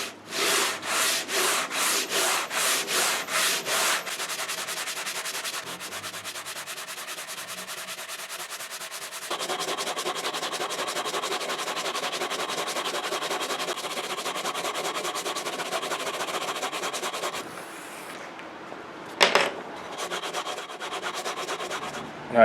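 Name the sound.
sanding guitar fretboard with 80 grit sandpaper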